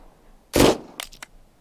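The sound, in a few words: gunshots in the video game Unheard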